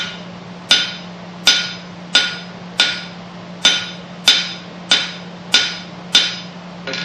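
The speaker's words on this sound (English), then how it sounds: "and my hammer is coming down at an angle" A blacksmith's hammer strikes a knife blade on an anvil in slow, evenly spaced blows, about ten sharp ringing metallic clangs, each decaying before the next, with a faint steady hum beneath.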